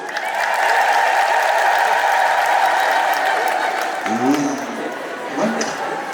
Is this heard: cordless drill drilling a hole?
no